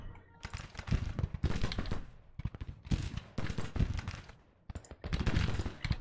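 Civil War musket and cannon fire in Grand Tactician, repeated bursts of rattling volleys in clusters with short gaps between them, loud and close.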